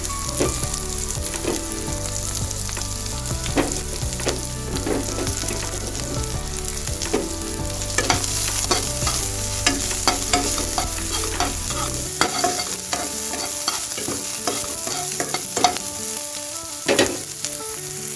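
Onions fry in a pan for an Assamese arhar dal dish. A steady sizzle runs throughout, close and constant, broken by frequent clinks and scrapes of stirring.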